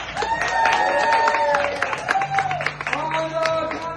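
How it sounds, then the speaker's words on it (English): Clapping and cheering break out from a live show audience, loud and close, mixed with shouting voices and a bright tonal sound running through it. "Let's give a round of applause."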